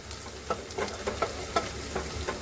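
Onion fries in a pan for moong matki misal, a close, continuous sizzle broken by regular spatula scrapes roughly every half second.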